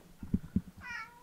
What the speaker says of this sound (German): Der Kater ist sehr gesprächig heute